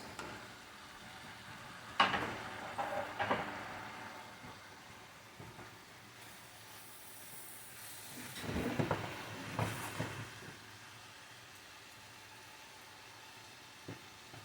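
Garlic hits a hot pan during curry chicken cooking, giving a steady broadband sizzle with sharp bursts near the start and a louder, crackling surge midway as it's stirred, then settling back to a quieter hiss; no talking.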